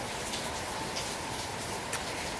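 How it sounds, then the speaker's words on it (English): Steady rain falling a little harder outdoors, a constant fine hiss with scattered faint ticks of drops, heard alone without talk. "It's raining a little harder."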